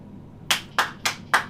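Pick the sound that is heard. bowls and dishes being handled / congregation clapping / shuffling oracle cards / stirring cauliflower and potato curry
congregation clapping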